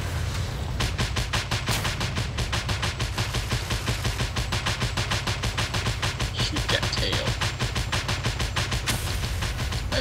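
Flak cannon in Just Cause 2 pounding away at an attacking helicopter, a fast, relentless stream of heavy booming shots with a deep low rumble running loud and close for the whole stretch.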